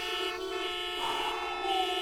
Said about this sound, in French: tu bloques la route et tu te fais klaxonner